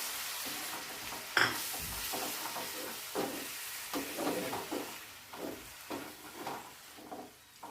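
Mushroom masala spices (turmeric, Kashmiri chilli powder, red chilli powder and coriander powder) cook with a little water in a pan, with a soft bubbling sizzle and faint stirring scrapes, fairly quiet and close, with no talking.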